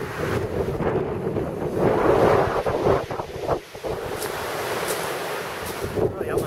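Strong, steady wind roars across the microphone at a rock-enclosed seaside bay at Agiofarago Gorge, Crete, with rushing surf and waves blending into the gusty noise throughout.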